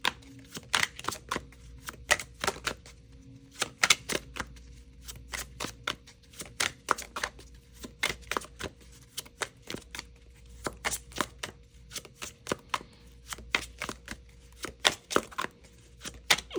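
A deck of tarot cards is shuffled in quick bursts of crisp riffling clicks and flutters, repeating in irregular clusters, close and fairly quiet with no talking.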